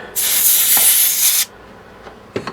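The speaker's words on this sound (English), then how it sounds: "Because I'm going to spray out the RAM slot here." Air blown through a straw into a computer RAM slot makes a loud, steady hiss that lasts just over a second, then stops, leaving a few faint clicks and taps.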